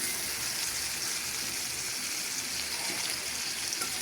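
Pre-fried pangas fish going into a pan of spices, giving a steady, close, even hiss of frying oil with a faint stirring texture and no talk.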